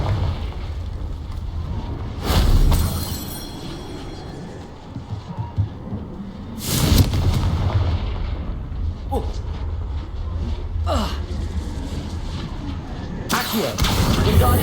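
Fire spell explosions in the video game Hogwarts Legacy, several loud broadband blasts at spaced intervals over a continuous low rumbling game backdrop, with a voice speaking briefly.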